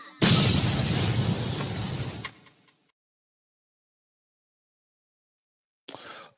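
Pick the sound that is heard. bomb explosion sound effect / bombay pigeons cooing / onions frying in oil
bomb explosion sound effect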